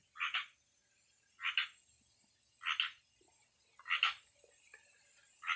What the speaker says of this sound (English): We have a tree frog taking up residence in here.